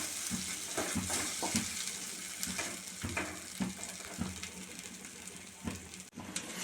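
Chutney ingredients sautéing gently in a pan over a low flame, with a soft continuous sizzle and repeated stirring knocks and scrapes at an irregular rhythm, close and fairly quiet.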